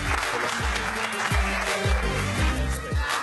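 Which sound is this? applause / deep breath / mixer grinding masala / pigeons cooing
applause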